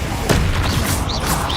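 A Confringo fire spell bursts in Hogwarts Legacy with a thumping impact followed by crackling, whooshing effects and scattered magical tones, loud and close amid busy combat sound.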